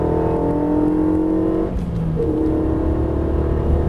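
Renault Mégane RS accelerating at full throttle on a track, heard from inside as a loud, steady engine roar that rises in pitch, dips briefly at a gear change near the two-second mark, then climbs again.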